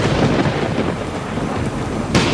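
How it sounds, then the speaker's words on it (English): Thunder rumbles heavily over steady rain, a loud continuous roar with a sharp crack near the end. "The dignitaries received the news just as a giant clap of thunder shook the house."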